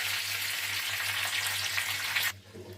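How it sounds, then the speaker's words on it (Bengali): Mustard seeds, chana dal and curry leaves sizzle loudly in hot oil on a switched-off gas stove, a dense, steady crackling hiss that stops abruptly near the end, leaving quiet. "আমি গ্যাসটা বন্ধ করে দিয়ে এখানে সর্ষে ফোড়ন দিচ্ছি, একটু ছোলার ডাল দিচ্ছি, এখানে একটু কারি পাতা দিয়ে দিলাম"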